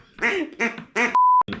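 A hand-blown duck call gives three raspy quacking bursts close up, then a steady electronic beep tone, with a final short quack at the end.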